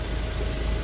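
A sand-gold 2021 XLS pickup truck's engine idles in a steady, low, even rumble, close and continuous with no speech over it.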